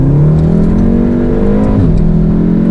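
A JB4-tuned Golf R or Audi S3 under hard acceleration, its engine droning loudly and rising in pitch, with a brief dip at a gear change before pulling again; heard up close from inside, with no talking.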